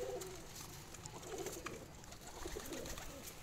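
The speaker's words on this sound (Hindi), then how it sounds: "ये टैडी कबूतर है सर।" Teddy pigeon, a home-bred bird, cooing in soft repeated low phrases close by, with faint rustling and background noise and no talk.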